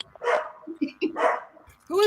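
A dog barking at an art show after party: a couple of distinct barks close by, mixed in with people talking.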